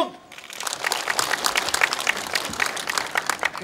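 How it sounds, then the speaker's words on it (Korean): Audience applause at a Marine Corps ceremony marking the 71st anniversary of the Jangdan Sacheon River battle at Imjingak, a crowd of hands clapping steadily and fairly loudly after a brief quiet start. "큰 박수로 맞이해 주시기 바랍니다"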